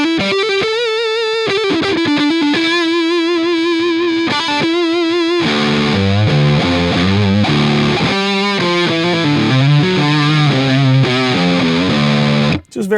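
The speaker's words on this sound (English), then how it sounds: "the low pickup, humbucker, you know, you're gonna get that big fat bluesier sound" A Balaguer Espada electric guitar on its low humbucker pickup plays a loud, thick, fat bluesy distorted phrase, starting with single sustained notes and moving into fuller chords and runs, with no talking.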